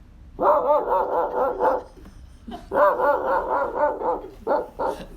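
A voice imitates a dog barking at a window, two bursts of rapid, loud, yappy barks with a short pause between and a few single yips at the end, close and clear with no other talk.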